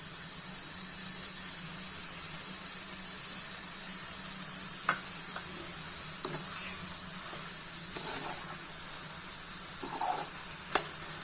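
Carrot halwa being stirred in a pan, a soft steady sizzle and hiss with occasional scraping clicks of the spoon against the pan, close and fairly quiet.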